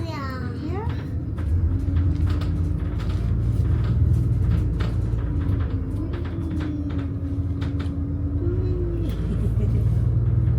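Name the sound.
inside a moving bus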